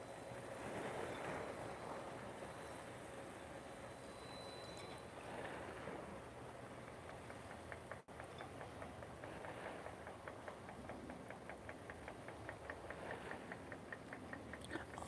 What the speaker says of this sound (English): there's a diesel motor in there pulling it along